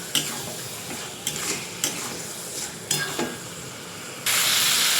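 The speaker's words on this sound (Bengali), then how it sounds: "চিকেনটা দিয়ে এবার ভালো করে কষাতে হবে।" Washed chicken pieces are sautéed in hot oil in a pan, with a steady sizzle under repeated scraping stirs of a spatula. The frying swells into a loud, dense hiss near the end.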